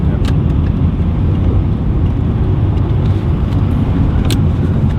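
Lexus GS430 sedan fitted with a Blitz aftermarket exhaust, heard as a continuous loud, deep rumbling drone while driving, steady throughout with no talking.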